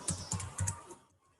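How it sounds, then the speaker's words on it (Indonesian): Fingers typing on a computer keyboard, a short run of soft, close key clicks in quick succession that fades out after about a second, with no one speaking. "Kita ketikkan lagi key ladder"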